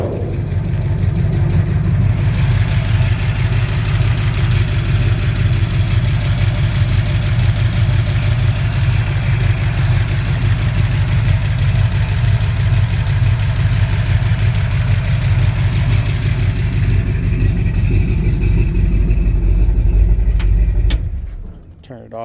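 A 1965 Ford F100 pickup with a 360 V8 and a performance cam idles steadily under the open hood, a deep, loud, lumpy rumble held for about twenty seconds before the engine is shut off.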